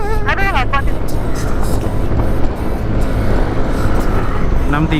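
A Yamaha Aerox scooter engine strains loudly up a steep climb, a constant droning roar that drowns a rider's voice at times, with wind noise close to the microphone.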